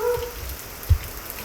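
Heavy rain falls during a windy storm, a dense, steady hiss of drops spattering close by, with one brief thud partway through and no talking.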